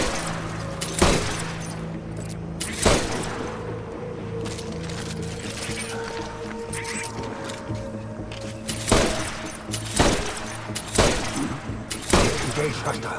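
Bursts of gunfire in the Death Stranding video game, sharp shots and short volleys scattered over a steady droning background, with voices talking over the action.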